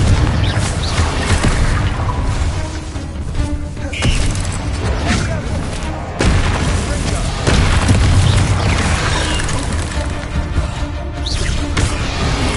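Spell explosions from Bombarda and Confringo in Hogwarts Legacy during a battle in a goblin mine: repeated heavy booms and thuds over a continuous loud bed of game noise.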